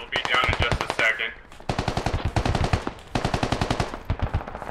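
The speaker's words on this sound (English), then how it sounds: "AK fire close to SL." Bursts of AK rifle fire in the video game Squad hammer out in rapid, loud volleys, several strings of shots broken by brief pauses, with chatter faintly underneath.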